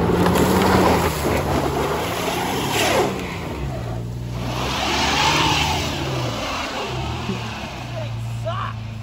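A Pathfinder SUV spins its tires and does donuts, its engine revving and whining in rising and falling sweeps close by, while people talk over it.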